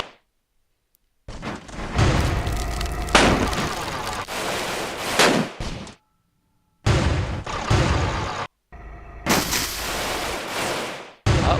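Flak guns firing in the Airships: Conquer the Skies game come as loud, dense bursts of booming and crackling gunfire, broken by short silent gaps, with no voices over them.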